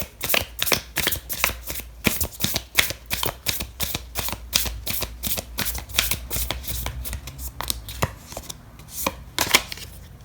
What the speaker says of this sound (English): I am going to pull out an oracle card for you.